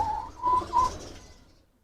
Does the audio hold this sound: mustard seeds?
no